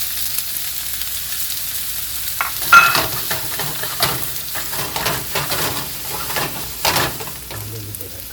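Chopped onions sizzle and get stirred in a hot pan while chili is cooked, a steady frying hiss broken by scraping stirs and bursts of louder crackle.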